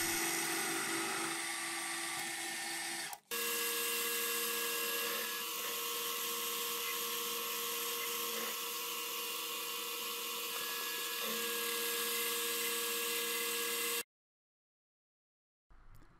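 A rotary tool grinds steadily as it cuts a ring blank down in thickness, a loud continuous high whine with a brief break near the start, then stopping abruptly before a short silence.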